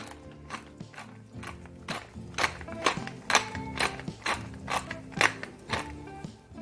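Pepper ground by hand with a grinder for hamburger steak seasoning: a run of rhythmic crunchy grinding twists, close and fairly loud, repeating about twice per second.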